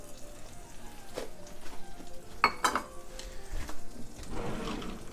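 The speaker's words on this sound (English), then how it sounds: "we're going to saute our garlic, our anchovies, and the red peppers together" Garlic, anchovies and red peppers sauté in olive oil in a pan, giving a steady low sizzle with a few sharp utensil clinks and scrapes partway through.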